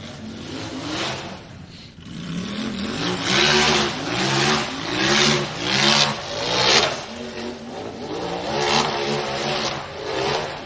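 A UTV race buggy in a stock/cup class off-road race at Windrock screams at full throttle, its loud engine rising and falling through repeated revving surges and gear changes, close and continuous with no talk.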